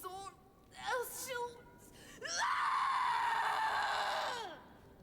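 A character in Tiny Tina's Wonderlands lets out a long, loud, piercing scream lasting about two seconds, preceded by shorter strained vocal cries.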